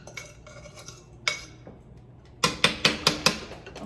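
A utensil clanks against a pan as couscous is tossed with vegetables and arugula, a few scattered scrapes followed by a quick run of five sharp metallic knocks, fairly close.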